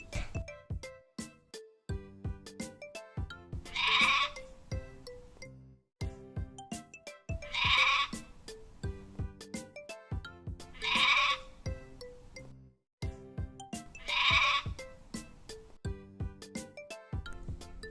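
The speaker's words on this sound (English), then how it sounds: "Sheep." Sheep bleat loudly and close in a repeating pattern, each drawn-out cry set over a bouncy musical backing with chiming tones and short pauses between the calls.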